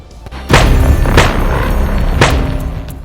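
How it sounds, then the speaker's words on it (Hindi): Gunshots fired at a man beside a road in a crowded market in Satara, Maharashtra: three sharp, loud bangs spaced about a second apart, each with a brief echoing tail, no voices. "बाइक से दो बदमाश आए और सड़क किनारे खड़े एक व्यक्ति पर गोली चला दी।"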